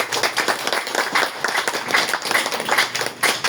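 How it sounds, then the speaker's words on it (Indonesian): Applause from a seated audience at a village committee swearing-in ceremony, dense steady clapping from many hands close by, without pause for the full stretch. "Tepuk tangan untuk semuanya"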